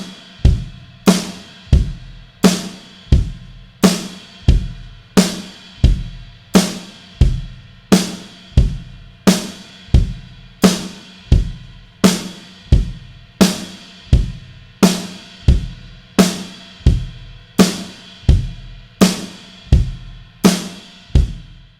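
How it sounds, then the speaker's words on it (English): A beginner rock beat plays on a drum kit, with a kick drum added under steady, evenly spaced hits that repeat in a regular pattern for about twenty seconds, close and punchy, with no talking. "And now we're going to add in the kick drum"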